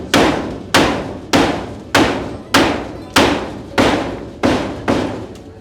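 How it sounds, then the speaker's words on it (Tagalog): Nails hammered out while a house is dismantled: nine evenly spaced, loud, sharp hammer blows land about every 0.6 seconds, each with a short ringing decay, close by and with no talk. "Pukpok ng pukpok."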